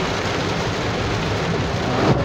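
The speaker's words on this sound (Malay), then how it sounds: "Hujan semakin deras." Heavy rain pours steadily onto a village road in Parit Masjid, Pontian, Johor, Malaysia, a dense, continuous hiss that stays loud and unbroken throughout, with a faint low rumble underneath.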